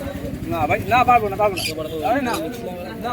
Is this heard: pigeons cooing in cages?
yes